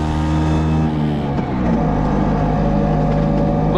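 Lambretta J50 deluxe scooter towing a suspended trailer, its small engine droning steadily and close throughout with a slight rise in pitch midway, no talk over it.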